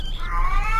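A cat in the indie horror video game Erie gives one drawn-out, wavering meow, close and fairly loud, lasting under a second over a low background hum.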